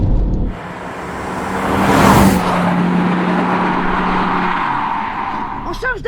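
A Volvo 850 T5-R's five-cylinder engine in sport mode drones steadily up close from inside the car, the tone rising and swelling midway before easing off.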